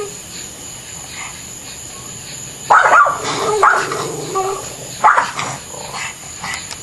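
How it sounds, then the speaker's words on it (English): Dogs bark at raccoons at night: after a quiet stretch, several loud, close barks and yips burst out in irregular bursts, with faint growling between them. "That's what they're barking at night."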